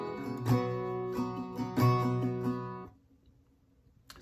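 Several crisp down and up strums of acoustic guitar ring out on the final part of a song's intro, then the chord fades to quiet for the last second.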